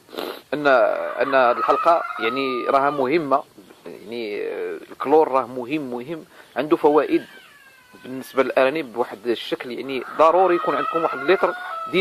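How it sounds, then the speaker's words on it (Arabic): Hens clucking and crowing at egg-laying time in a rabbit-keeping yard, repeated calls running in the background beneath continuous close speech from a man. "نعتذر على الصوت ديال المقاقيه ديال الدجاج، لان اوقيتهم هذه باش كيوضعوا البيض"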